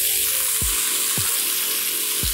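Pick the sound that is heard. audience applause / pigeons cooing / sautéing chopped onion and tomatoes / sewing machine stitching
sautéing chopped onion and tomatoes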